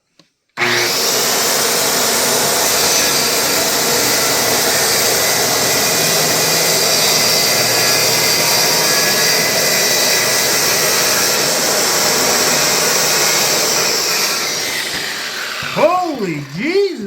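A Dewalt DWE575 circular saw fitted with a framing blade rips through chipwood, a loud steady whine and grinding roar running about fourteen seconds before the blade spins down.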